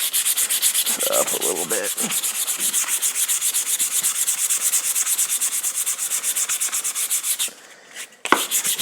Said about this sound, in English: Got a little 100 grit.